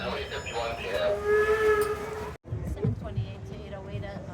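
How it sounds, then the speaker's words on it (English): Steam locomotive whistle sounding a single sustained blast as a train pulls into a heritage railway station, with station noise and voices around it before a brief cut. "the sound of a single whistle, letting us know it's safe to come off the train"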